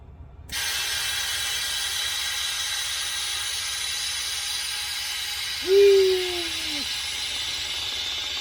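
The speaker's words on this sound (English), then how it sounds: "when you energize this thing, it'll open that valve and dump air out into this." Electrically energized dump valve on a trailer opens and vents air from the rear air bags: a steady close hiss runs throughout, with a brief tonal squeal near the end as the valve shifts.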